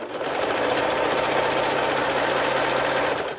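A serger stitching fabric at high speed, a loud steady mechanical whir with a rapid rhythmic hum, running continuously from start to finish.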